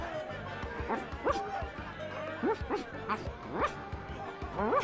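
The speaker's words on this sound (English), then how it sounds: "Is that a dog?" Small yips and bow-wow barks from a dog in The Secret of Monkey Island Special Edition, several short calls scattered across the stretch under a quiet game backdrop, with a person chuckling faintly.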